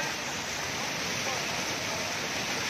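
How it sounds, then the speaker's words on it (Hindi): A small waterfall at Bhatinda Falls near Dhanbad gives a constant, dense rush of falling water, loud and close and unbroken for the whole stretch. "छोटा झरना हमको ये बहुत ही अच्छा लगा देखने में"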